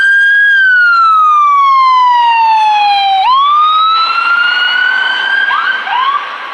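A loud EMS ambulance siren wails close by on a Boston street, sweeping slowly down in pitch and then climbing back up, with road rumble underneath.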